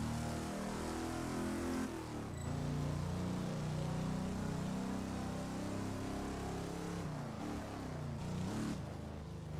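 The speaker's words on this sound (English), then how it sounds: "This sounds like a muscle car. Well, it's got a Ford engine in it." A Koenigsegg fitted with a Ford V8 in Test Drive Unlimited 2 drones with a loud, sustained engine note that rises and shifts as it revs, steady throughout with no speech.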